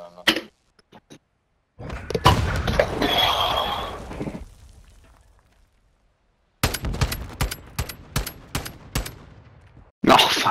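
Rapid gunfire bursts in Call of Duty: Modern Warfare II ranked play, with close, sharp automatic shots in separated clusters broken by silent gaps and a brief mechanical clatter.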